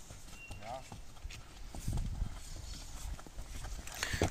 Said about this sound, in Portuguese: Chegando o vaqueiro Xananá montado no cavalão.